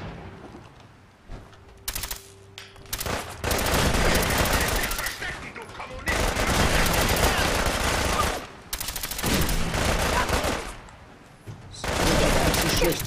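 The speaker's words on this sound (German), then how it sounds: "also die Kugeln explodieren beim Einschlag und richten 15 Punkte Flächenschaden an." Explosive rounds fired at a Mr. Gutsy robot in Fallout 4, long loud bursts of rapid automatic gunfire with blasting impacts, broken by short pauses, with a voice speaking faintly underneath.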